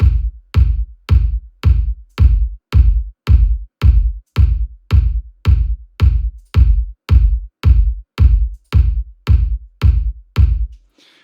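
A kick drum processed with a linear-phase high-pass filter hits alone in a steady, even rhythm, about twenty punchy, deep thumps with clean low end and quick decay between beats.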